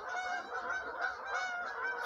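A large flock of geese honks continuously overhead outdoors in the UK, a dense, steady chorus of overlapping calls at moderate distance with no speech.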